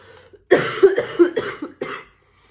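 A run of harsh, close coughs, several bursts in quick succession with short pauses, loud and without speech.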